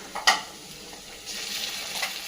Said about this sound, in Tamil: ஆனியன் வதக்கிக்கலாம். பூண்டு பேஸ்ட் கொஞ்சம் போட்டுக்கலாம்.